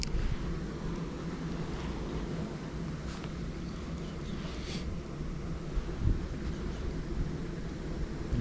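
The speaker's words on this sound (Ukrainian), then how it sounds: "Вітер видуває все рівно в бік." Wind gusts outdoors at a pike-fishing spot, a steady low rumbling buffet across the microphone, fairly faint and continuous with no voices.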